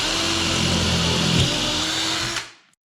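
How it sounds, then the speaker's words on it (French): A power drill bores a hole into a touring ski for binding mounting, a loud close whirring drone that holds steady for over two seconds before winding down and stopping. "je viens percer bien dans l'axe"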